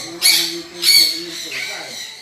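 A chestnut-fronted macaw gives a few harsh, raspy squawks up close, three bursts in quick succession.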